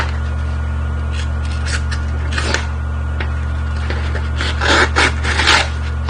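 A blade is sharpened with intermittent rasping, scraping strokes over a steady low hum, the strokes growing louder and closer together toward the end.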